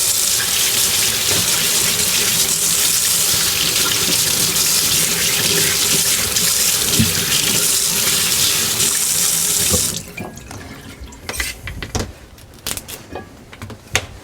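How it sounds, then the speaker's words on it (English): Cold tap water runs loudly and steadily into a sink as celery is washed, then cuts off after about ten seconds, followed by a few small handling knocks and clicks. "Then wash it under cold water."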